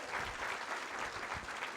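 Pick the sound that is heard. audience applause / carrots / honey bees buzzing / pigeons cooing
audience applause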